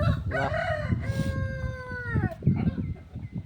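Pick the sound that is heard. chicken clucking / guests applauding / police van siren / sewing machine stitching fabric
chicken clucking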